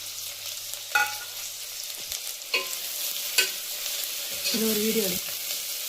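Mint leaves are sautéed in a pan for vegetable biryani, with soft sizzling, a few sharp clinks and scrapes of stirring, and a brief voice near the end.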